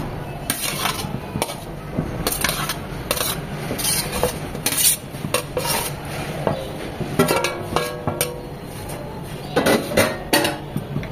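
A spoon scrapes and clinks against a pan while pasta and vegetables are mixed in a white sauce over low heat, giving irregular metallic taps and scrapes at close range with no talking.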